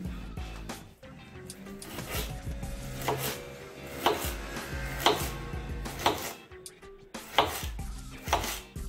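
Leeks being chopped with a knife on a board, a run of close, uneven cutting thunks and scraping strokes with short pauses between bursts, no talking.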